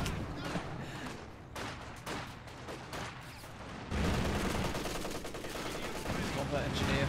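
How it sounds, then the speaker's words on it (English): MG34 machine gun laying down suppressing fire in a heavy-armour battle video game, with rapid sustained bursts of gunfire that swell louder midway and continue densely to the end amid other battle noise. "This is MG34 laying down the suppression"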